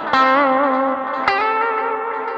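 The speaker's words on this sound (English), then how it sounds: "That's like an echo with some sort of paddy reverb sounds going on there." Electric guitar played through the Blue Cat Audio Axiom 2 plugin, set to an echo with a pad-like reverb: two loud plucked notes ring out with rich sustained harmonics and a smeared, washing tail, without any talking.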